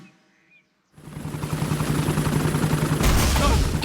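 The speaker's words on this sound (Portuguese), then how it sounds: "O helicóptero da Dona Coelha resgatou o Papai Pig" Cartoon helicopter from a children's pig cartoon in flight, a loud steady rotor chop and engine drone starting abruptly after a near-silent moment and holding strong to the end, growing a little louder toward the close.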